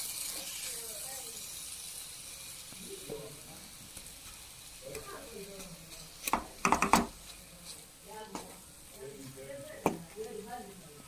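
A spoon stirs carrot halwa in a pan as ground sugar melts into it, giving a soft steady sizzle broken by a few sharp scraping clatters, with a low voice faintly underneath.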